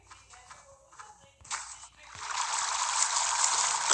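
Water pours and gushes steadily in a video game, starting with a few short splashes and then swelling into a continuous loud rush.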